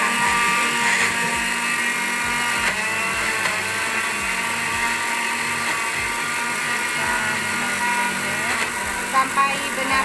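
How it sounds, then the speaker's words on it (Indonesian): A blender purees chocolate pudding ingredients with a loud, continuous high-pitched whir that holds steady for the whole stretch, with no talking. "Ini agak susah karena kapasitas blendernya."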